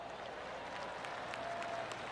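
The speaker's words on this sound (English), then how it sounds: "I can hear the golf claps around the course." A golf gallery claps in PGA TOUR 2K25, a soft, steady patter of applause from a crowd spread around the course, heard distantly for about two seconds without talk.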